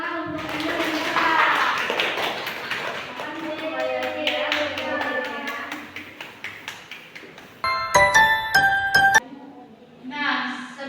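Rhythmic group clapping in an Indonesian primary school classroom, steady sharp claps running under a chorus of children's chanting voices, then a brief pause before a short burst of claps and voices near the end.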